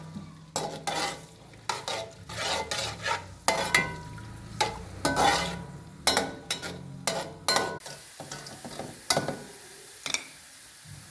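Onions fry in a pan for peas pulao, a close and continuous sizzle punctuated by many quick rhythmic scrapes and clatters of a spoon stirring, then a brief quieter hiss at the close.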